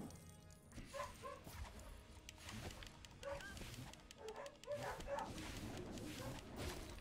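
A dog barking and yipping off in the background of a live stream, short irregular bursts with whimpers, fairly faint and scattered across several seconds.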